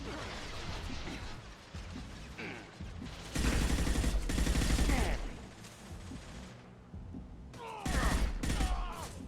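Rapid gunfire bursts from a gun in the Mass Effect 2 video game, loud crackling volleys in two main clusters with scattered shots and clattering impacts between them, with a player's voice occasionally audible.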